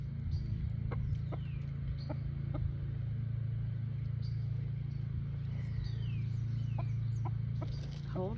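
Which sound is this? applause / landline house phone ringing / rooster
rooster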